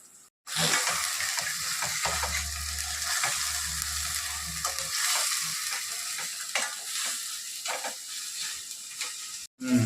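Onions frying in a pan with ginger garlic paste and ground masala for a drumstick chicken curry, giving a steady loud sizzle with stirring scrapes throughout and a brief break near the end, no talk.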